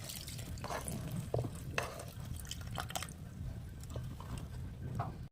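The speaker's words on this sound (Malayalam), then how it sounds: "ഇളക്കുന്നതിനനുസരിച്ച് നമുക്ക് കുറേശ്ശെയായി പാൽ ഒഴിച്ചു കൊടുക്കാം." Thick harees being stirred in a pot as coconut milk is poured in a little at a time, giving soft wet slaps and drips with light clinks of the spoon, steady and close with no talking.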